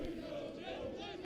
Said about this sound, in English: The crowd are picking up.